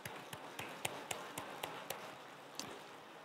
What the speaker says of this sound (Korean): 우리 서로를 향해서 이렇게 한번 박수하면서 인사하겠습니다